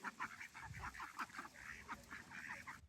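Ducks at dusk being coaxed in for the night, a lively flurry of quacks and honking calls in quick succession, close by and fairly faint.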